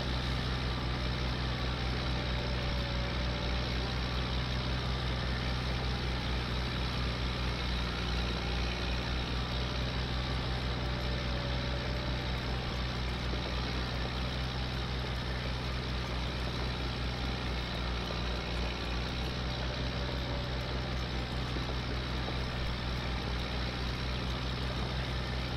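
A farm tractor engine drones loud and unbroken as the tractor pulls a cultivator across a field preparing a seedbed, with a rough ride on its suspension.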